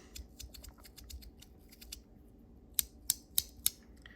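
A Lautie x ACEdc haptic coin fidget toy clicks close up, first a quick run of soft, light ticks, then four sharp, louder clicks spaced about a third of a second apart in otherwise quiet surroundings.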